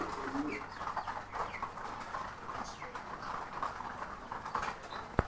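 An American Tailmark pigeon coos softly in low, repeated murmurs amid busy background noise and nearby chatter.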